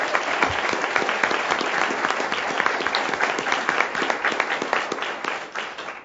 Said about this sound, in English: A.J., let's give you a round of applause.